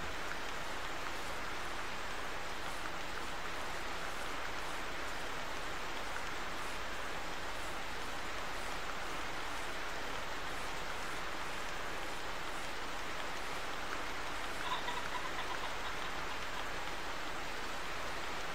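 Steady, soft rainfall in a pheasant-hunting scene of the video game theHunter, an even hiss of drops on surfaces running without a break and without talk.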